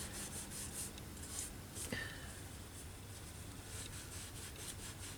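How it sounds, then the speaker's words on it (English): Soft rubbing of a wet wipe over a paper collage makes a faint, close, continuous scrubbing with light rhythmic strokes. "I'm just going to try and subdue this bit a little bit by rubbing it with the wet"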